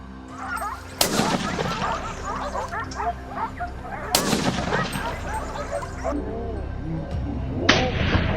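Rifle shots fired at wild boar during a hunt with hounds, three sharp cracks spaced a few seconds apart, with dogs barking and yelping throughout.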